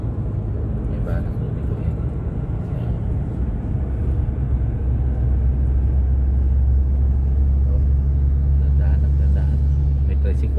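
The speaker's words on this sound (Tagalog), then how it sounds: "May tricycle lang yun. May single na motor." A tricycle and a single motorcycle passing in street traffic: a steady, loud low engine drone and rumble from nearby vehicles fills the whole stretch, with faint talk in the background.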